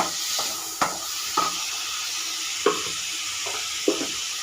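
Cumin powder and spices lightly frying in a pan, a steady soft sizzle and hiss with a few sharp stirring clacks of a spoon against the pan.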